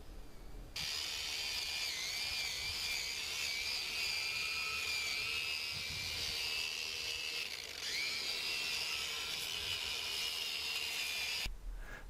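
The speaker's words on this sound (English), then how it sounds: "we're going to use a wire brush attached to angle grinder to remove any paint that is loose" An angle grinder fitted with a wire brush strips loose, peeling paint from a painted concrete block wall, giving a steady, loud, high-pitched whirring and scraping drone that runs continuously for about ten seconds before cutting off.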